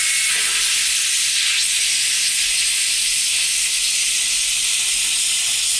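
A 230V ESAB plasma cutter slices through 6 mm stainless steel. It gives a loud, constant, close-up hiss that runs unbroken through the whole clip.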